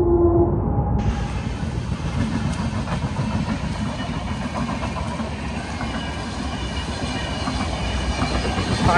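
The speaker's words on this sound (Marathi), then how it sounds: "आणि बघू शकता ट्रेन सुद्धा आलेली आहे." A train rumbles past on nearby tracks close to a tunnel near Ranpat Waterfall in Ratnagiri, with a loud, steady roar of wheels and carriages that fills the whole clip and has no gaps.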